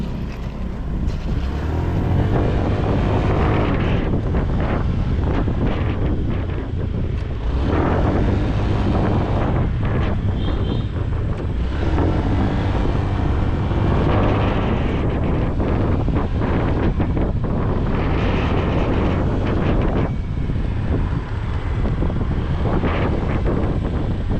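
A Honda Click 125i scooter rolling along a road on Pirelli Angel tires: a loud, steady rush of wind buffeting the microphone over a low engine drone that holds constant throughout, with no talking.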